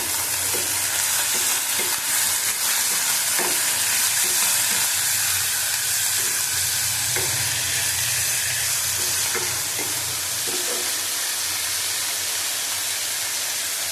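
Bottle gourd peel and shrimp heads fry in a hot pan with a loud, constant, close sizzle, while faint scraping strokes of a spatula stir the mixture underneath.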